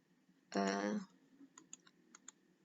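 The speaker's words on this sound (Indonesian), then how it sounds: "jadi Anda tinggal mengetik teachers animated picture" Computer keyboard typing indoors, a handful of light, separate key clicks spaced irregularly after a short burst of speech, quiet and close with a steady faint background hiss.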